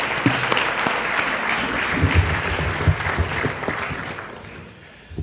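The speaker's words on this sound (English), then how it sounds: "Let's give them all a round of applause" An audience at an IEEE-USA annual meeting awards ceremony claps steadily for the award recipients, a dense even round of applause that tapers toward the end.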